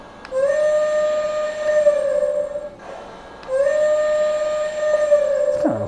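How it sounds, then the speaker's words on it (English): A Lionel Pennsylvania Flyer toy train sounds its electronic horn in two long, loud, steady blasts separated by a short gap, close and alone. "let's check out the horn"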